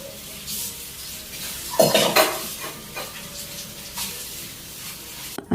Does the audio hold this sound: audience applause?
no